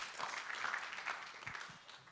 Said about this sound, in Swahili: Tujipigie makofi kidogo.